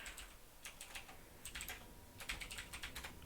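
Typing on a computer keyboard, quiet close clicking in quick irregular bursts with brief pauses between them.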